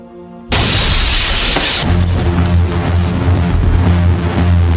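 A glass bed shatters loudly all at once, a sharp burst of breaking glass followed by shards and debris scattering and settling, with a low rumbling tone underneath.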